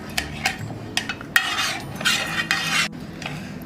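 Honey is stirred into a homemade herbal kadha, with a spoon scraping and clinking against the vessel in quick repeated strokes, close and fairly loud.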